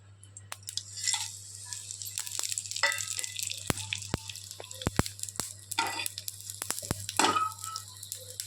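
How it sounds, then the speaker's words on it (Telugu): Spices fry in ghee in a pan for rice tomato bath, a quiet sizzle with scattered sharp clicks and scrapes of stirring and a low steady hum beneath. "కొద్దిగా నెయ్యి వేసుకున్నాక కొంచెం ఫ్రై అయ్యాక ఇందులో మనం మసాలాస్ యాడ్ చేసుకుందాం."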